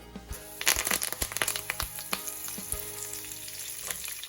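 A handful of curry leaves sizzle and crackle loudly in hot oil while tempering for a Chettinad mutton dish, with sharp pops early on settling into a steady frying hiss, close up and with no voices.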